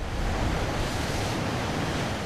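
King tide ocean waves wash and roar loudly and steadily without a break, a dense rush of surf with wind buffeting the microphone.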